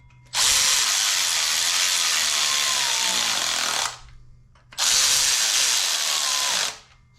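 A power tool drives bolts during an LS engine swap into a 1953 Chevy 3100 pickup, two loud sustained whirring bursts of about three and two seconds, close by with no talk.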